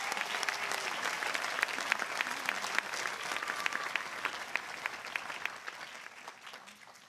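Crowd at a university commencement ceremony applauds master's degree alumni, a steady, moderately distant patter of many hands with individual claps standing out, slowly tapering toward the end.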